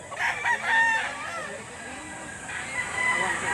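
Rooster crowing at a livestock auction market in Lipa, Batangas, a close crow over a busy crowd murmur with voices talking.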